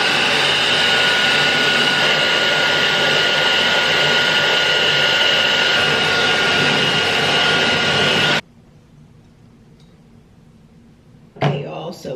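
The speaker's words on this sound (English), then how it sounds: "we finished blow drying" A hair blow dryer runs loud and steady as a broadband whoosh for about eight seconds, then shuts off, leaving quiet room tone before a brief burst of movement near the end.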